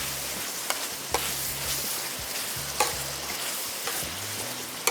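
Curry leaves are stirred in a hot open pan, a steady sizzle and hiss broken by several sharp scraping clicks of the utensil against the metal at irregular intervals.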